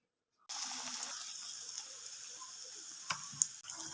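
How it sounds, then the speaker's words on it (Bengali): Cauliflower fritters dipped in gram-flour batter sizzle in hot oil, a soft, steady crackling hiss that starts abruptly and keeps going, with a few sharper pops near the end. "এবার ফুলকপির চপটা ভেজে নেব।"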